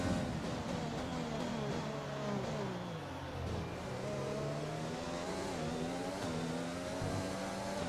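Formula 1 car engine in the F1 2020 racing game at the Bahrain Grand Prix, a loud continuous high-revving whine that climbs and drops through gear changes, with other cars audible close by.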